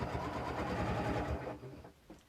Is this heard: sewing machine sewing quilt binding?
yes